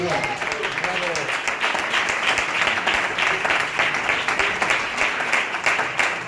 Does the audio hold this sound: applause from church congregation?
yes